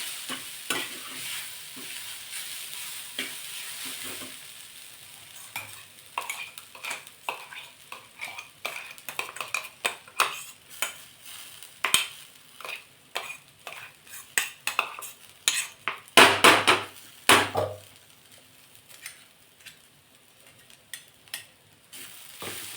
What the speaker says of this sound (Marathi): तुरीचे दाणे जे वाटून घेतलेले आहेत ते टाकायचे मिक्स करायचं आहे